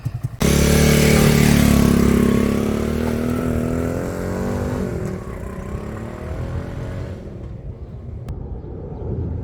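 A cheap online-ordered motorcycle revs up loud and close, its engine roaring strongly at first, then settling into a steady droning run as it rides away and fades somewhat.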